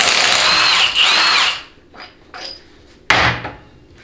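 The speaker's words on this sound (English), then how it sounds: "this bolt takes an 18 millimeter socket. Use a half inch drive impact if you can." Half-inch drive impact wrench with an 18 mm socket removing a bolt during a 6L90 transmission teardown: a loud close burst of hammering for about a second and a half, followed by clinks and one more sharp short burst.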